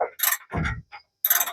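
A hand ratchet tightens a bolt on the rear bumper of a 1966 Mustang, giving several short, close bursts of clicking separated by brief pauses, with no talking.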